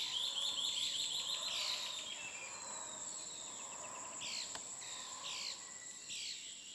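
Tropical forest birds call near an insect swarm, a busy overlapping chorus of high chirps and sweeping whistles, fairly faint against a constant insect buzz, with no voices.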